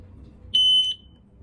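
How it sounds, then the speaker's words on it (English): A Bluetooth shot timer, model M1A2-FW, sounds one loud, high electronic beep of about half a second when its countdown ends, close and clear over a quiet background. "The timer will beep when the countdown time is over."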